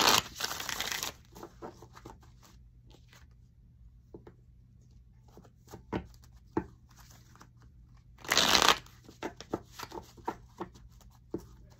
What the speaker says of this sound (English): All right, let's get a nice shuffle.